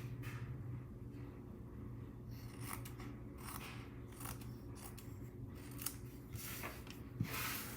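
Scissors cut paper overhang off the edge of a handmade holiday card in a series of short, crisp snips. The snipping is faint and close, with no talking.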